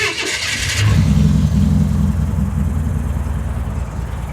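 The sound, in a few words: old custom car engine running with new timing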